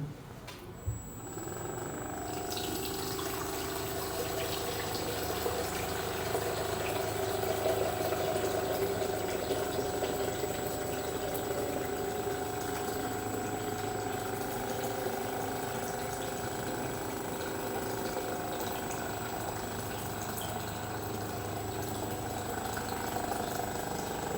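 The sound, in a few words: homemade water jug pump running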